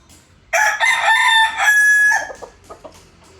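A four-month-old McLean x Miner blue gamecock crows once, loud and close, a long strained cock-a-doodle-doo that trails off into a few softer clucks.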